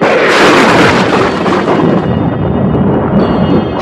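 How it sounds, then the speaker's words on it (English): A loud, sustained rumbling crash that rolls on for several seconds and gradually eases, deep and booming like nearby thunder. "Thunder crashed outside the house"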